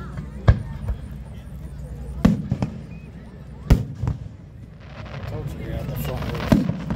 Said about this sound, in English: Those are the big fireworks.